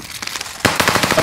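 Rapid gunfire in Call of Duty on Rebirth Island, a quick burst of sharp cracking shots, a few faint ones first, then a louder dense string close by.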